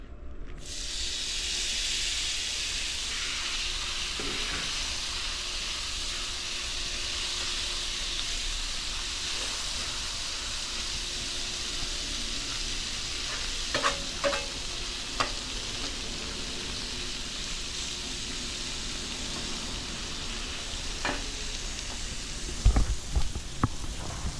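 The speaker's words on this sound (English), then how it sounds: "we got to do a short sizzling shrimp" Shrimp sizzle steadily on a hot griddle, a constant crackling hiss with a few sharp clinks and scrapes of a utensil near the end.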